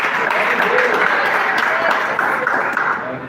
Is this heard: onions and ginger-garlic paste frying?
no